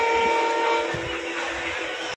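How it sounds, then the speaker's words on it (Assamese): A train rumbles loudly close by, a steady broad roar with a brief horn-like tone at the start. "ট্ৰেইন আহি গ'ল ট্ৰেইনত গৈছোঁ"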